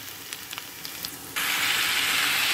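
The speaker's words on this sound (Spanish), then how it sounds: "Aquí es donde vamos a agregar ahora sí el tomate." Chopped tomato drops into onions frying in a pan for Mexican-style nopales, setting off a sudden loud, steady sizzle after a few soft clicks.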